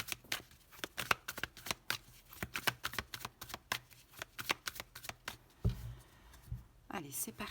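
A tarot card deck is cut and shuffled by hand, a rapid series of sharp riffling card snaps and slaps, close and crisp, briefly pausing near the end before a few more flicks.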